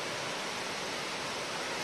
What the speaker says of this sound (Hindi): बरसात कम हुई है इसलिए पानी कम है, उतना झरना तेज नहीं गिर रहा है